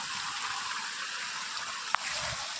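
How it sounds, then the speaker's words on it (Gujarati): Irrigation water gushes into a farm field, a constant rushing flow heard close up and alone, with one brief sharp click partway through. "બે કલાકની રાહ જોયા બાદ પાણી આવી ગયું"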